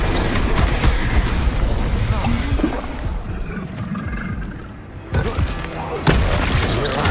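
Confringo fire spell explosions in Hogwarts Legacy, a run of loud booming blasts and crackling bursts over rumbling combat noise, dipping briefly before sharp new impacts near the end.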